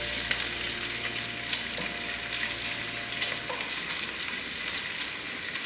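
Bacon fries in a pan with a constant, dense crackling sizzle and a faint low hum running underneath, steady throughout and with no talking.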